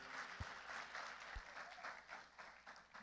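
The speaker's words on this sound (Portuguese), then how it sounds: "Uma salva de palmas para a equipe técnica." A church congregation applauds the technical team with steady, fairly faint clapping that runs the whole time, a few soft low thumps mixed in.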